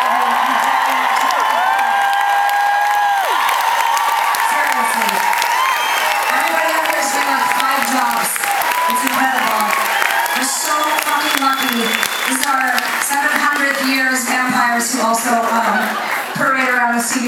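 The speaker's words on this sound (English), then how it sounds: "A massive round of applause" Concert crowd at a show at Vicar Street in Dublin keeps up loud, dense applause and cheering throughout, while a voice speaks over the clapping.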